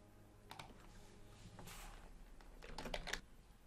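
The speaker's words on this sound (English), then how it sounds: "I'm going to type my idea" Keystrokes on a computer keyboard as someone types an idea into an online collaboration board, a scattered run of light clicks with a denser burst near the end, close and fairly quiet, no talking.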